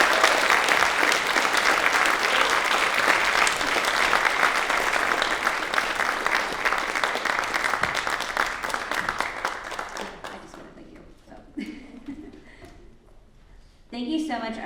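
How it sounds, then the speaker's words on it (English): Sustained audience applause after a speech at an evening speaking event, dense and loud at first, then thinning out into scattered claps and fading toward the end, with a brief swell just before the close. "Please join me in giving RJ a round of applause."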